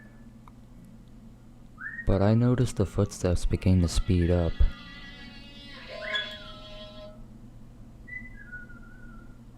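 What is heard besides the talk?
happy whistling tune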